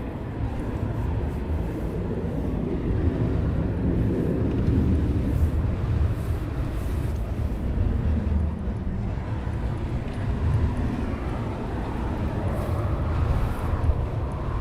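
A military jet taxis at RAF Coningsby, a steady broadband engine roar and rumble that holds at an even, fairly loud level throughout with no talk over it.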